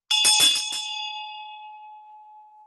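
A single bell strike rings out loud and bright, then its clear tone hangs and slowly fades over a couple of seconds, with no other sound around it.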